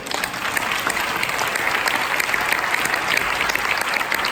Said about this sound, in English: Give yourself a big applause for getting there.